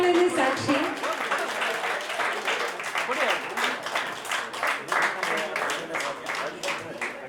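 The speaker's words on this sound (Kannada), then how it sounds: "ಅವ್ರ ಹೆಸರು ಕೇಳ್ತಿದ್ದಂಗೆ ಬರೋ ಚಪ್ಪಾಳೆನೇ ಸಾಕ್ಷಿ" Audience applause for Professor Mudduramappa at a Kannada folk Rajyotsava celebration, a sustained dense round of clapping from a large crowd that carries steadily through the whole stretch, with voices mixed in.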